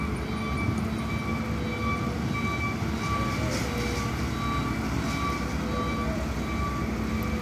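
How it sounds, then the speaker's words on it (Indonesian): Goods trucks reverse at the LCM ferry pier in Gilimanuk, their reversing beeps sounding faint and distant over a low engine rumble, with voices in the background. "Karena pergerakan mobil di sini besar-besar, mobil barang dan muatnya mundur."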